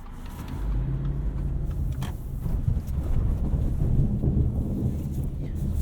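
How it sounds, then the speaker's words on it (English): A 2019 Subaru Forester Sport's boxer engine rumbles low and steady at low revs while driving, a deep, continuous drone mixed with road and wind noise from inside the cabin, swelling slightly toward the end. "I do think the engine sounds good at low revs. You got that typical boxer rumble."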